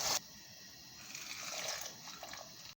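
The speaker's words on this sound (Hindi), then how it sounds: "पानी हमारा बॉयल हो चुका है। अब हम इसके अंदर मैक्रोनी शामिल कर देंगे।" Dry macaroni pours into a pot of boiling water, with soft bubbling, sloshing and light splashing heard faintly and close by, ending in a brief clatter.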